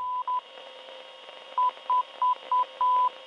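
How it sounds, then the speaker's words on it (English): Morse code beeps from a radio transceiver in the WW2: Bunker Simulator video game, a steady tone keyed in short and long pulses, two quick ones, a gap, then five more with the last held longer, clear over faint hum. "Morse code."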